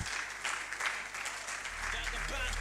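Applause from an audience at a corporate leadership event, a dense steady patter of many hands at moderate distance, with a low hum underneath that thickens toward the end.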